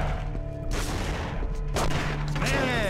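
Gunfire from a Punisher video game as enemies are shot out of windows, rapid overlapping shots and bursts with short sharp cracks and rumbling booms, mixed with game effects and no clear talk.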